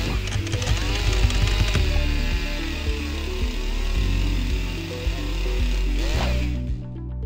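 A modern chainsaw runs hard while cutting wood, its high engine whine steady and loud with pitch dips as the chain bites, before cutting off abruptly near the end.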